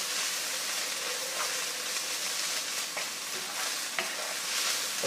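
Tomato puree and shirataki konjac noodles sizzle steadily in a hot pan, a close, continuous frying hiss with occasional faint stirring scrapes.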